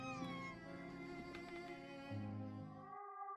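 A cat meows in the horror point-and-click game The Last Door, a few drawn-out tonal cries heard up close over a steady background hum, with no talking.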